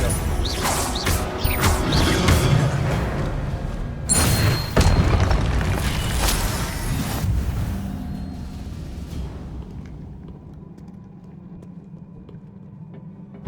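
Confringo blasting spell explosions in the Hogwarts Legacy video game, a string of heavy booms and crashing impacts with mechanical rattles that fade into a low, quieter rumble.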